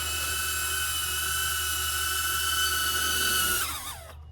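A HoverAir Pro Max drone hovers with a steady high-pitched propeller whine, then its pitch drops and bends as it is recalled and the sound tapers off at the end.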